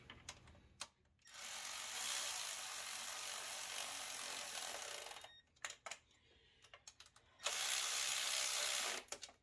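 A ratchet tightens starter motor bolts on a 1990–1994 Lexus LS400: two long runs of fast, close clicking with a brief pause and a few short clicks between them.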